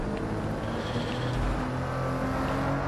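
A car driving through the streets in Watch Dogs Legion, its engine a steady, moderately loud drone with road noise throughout and no voices.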